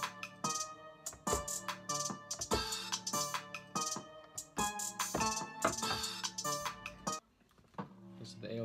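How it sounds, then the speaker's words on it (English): Quiet hip-hop type beat, its 808 bass booming under punchy percussive hits in a steady rhythm, dropping lower near the end. "Now just the 808."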